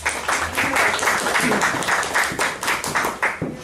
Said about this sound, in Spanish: le pido fuertes aplausos